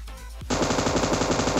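Rapid automatic gunfire in PUBG Mobile, a loud, steady stream of close shots that kicks in abruptly after a brief quieter lead-in and continues without pause.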